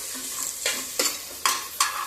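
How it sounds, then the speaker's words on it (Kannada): Raw green peas fry in oil for a pulao, giving a steady soft sizzle with a few sharper scraping stirs at regular intervals, close and fairly quiet. "ಈಗ ಹಸಿ ಬಟಾಣಿ ಒಂದು ಕಪ್ನಷ್ಟು ಹಾಕಿದ್ದೀನಿ. ಅದು ಫ್ರೈ ಆಗಬೇಕು ಎಣ್ಣೆಯಲ್ಲಿ."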